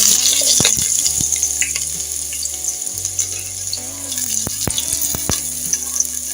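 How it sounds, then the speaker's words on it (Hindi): Chopped medium onion frying in oil for chana biryani, a loud, constant sizzle with sharp clicks from stirring and a low hum running beneath, no voices. "थोड़ा सा इसमें मैंने सॉल्ट डाल देना है और इसको हमने फ्राई करना है ब्राउन होने तक"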